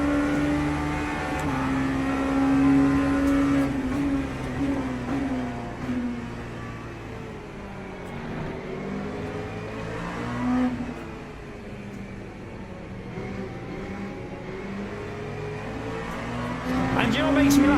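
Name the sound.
LMP2 race car engines in Le Mans Ultimate video game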